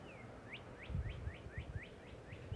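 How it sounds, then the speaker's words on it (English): A bird repeats a quick series of rising, chirped notes outdoors at a steady rhythm, fairly faint over low background rumble. "Listen to those birds."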